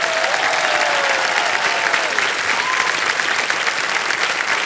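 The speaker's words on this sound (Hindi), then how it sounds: "इतनी जोर से जनता ने ताली बजाई।" A studio audience on a television quiz show claps loudly and without a break, a thick, even roar of applause with a faint voice rising through it.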